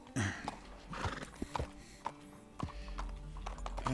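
Horse in the Red Dead Redemption 2 video game, a sharp neigh followed by a run of clip-clopping hoofbeats, fairly faint and close, with no talk.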